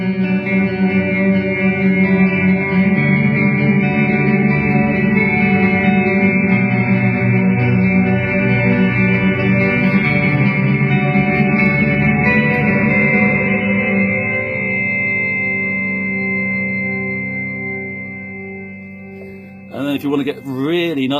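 Electric guitar through an EHX POG 2 octave pedal, sustained layered notes ringing with added upper and lower octaves, fading out before a brief burst of new playing.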